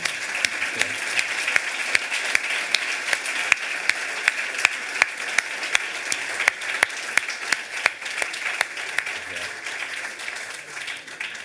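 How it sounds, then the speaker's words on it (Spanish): Conference audience applauding two speakers after a geopolitical panel on Greenland: steady, dense clapping from a sizable crowd, sustained for several seconds in a hall. "Esto merece un aplauso para los dos,"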